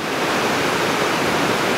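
Creek water rushes steadily through a rocky gorge, a dense, even roar of flow that stays constant and fairly loud throughout.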